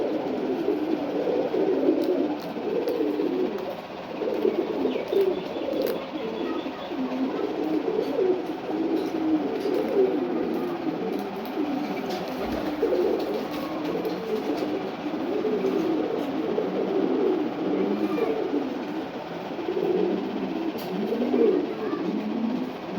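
Ghee-coloured Ghiachulli pigeon cooing in a steady, low, rolling murmur that runs through the whole stretch, close and moderately loud against a faint background hum.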